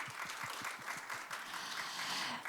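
Audience applause at an energy economics research institute's annual results presentation, steady clapping from a seated crowd welcoming a session chair, alone without talk.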